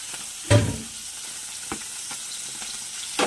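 A Bengali bhola fish curry with ginger, garlic, onion and tomato cooks in a pan, giving a steady sizzle with a few stirring knocks, one louder scrape near the start and another at the end, and no voices.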